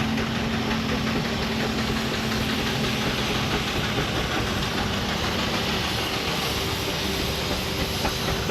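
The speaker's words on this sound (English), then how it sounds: "an Evelyn Porter road locomotive" Aveling Porter steam road locomotive hauling heavy loads at a steam rally, a continuous loud mechanical rumble and rhythmic chuffing churn held steadily, close by, with no talk.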